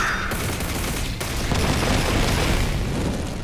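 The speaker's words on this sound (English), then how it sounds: "Now taste my newly developed anti-phase electron bullets." Anti-phase electron bullets fired in Digimon Story Time Stranger, heard as a dense, continuous rapid-fire barrage of loud crackling shots lasting the whole moment.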